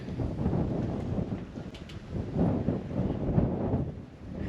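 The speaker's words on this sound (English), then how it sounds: "it's too windy for the drone as well" Wind buffets the microphone in low, rumbling gusts that swell and ease, loud and close, with no talking, outdoors at a castle in Alicante, Spain.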